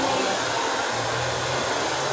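Hair dryer blowing on hair: a loud, steady, close rushing whoosh of air with a constant motor hum and no pauses.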